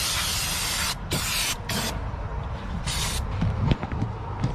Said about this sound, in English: one more spray down just to make it all nice and shiny